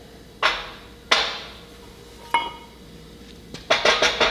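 Sharp metallic hammer strikes driving a bushing into a Mack R686ST truck spring hanger, a few spaced loud blows followed by a quicker cluster of taps, close and ringing with no talk.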